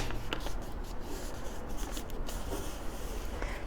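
Sheet music pages being folded into a lightweight duotang folder, a steady dry papery rubbing and shuffling with small crinkles, close up and continuous for a few seconds, with no talking.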